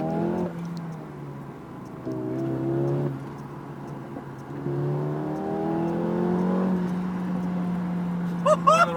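A Mercedes G63 AMG with a 750 bhp build accelerates on the road, its engine revving up in several rising pulls with gear changes between, loud and close, while people talk inside the cabin.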